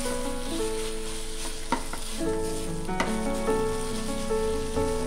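Beetroot halwa mixed with dry fruits is stirred in a pan over a low sizzle, with a few distinct scraping knocks of the spoon against the pan and a faint tonal hum underneath.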